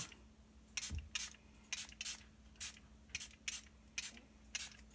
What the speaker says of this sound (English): I think we'll take these three colors and we will spritz them.